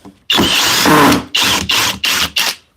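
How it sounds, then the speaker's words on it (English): Power driver with a square bit backing screws out of a mobile miter saw station: a long whirring burst followed by four short, close, loud spins separated by brief pauses. "To remove it's pretty easy. Just back out a couple screws."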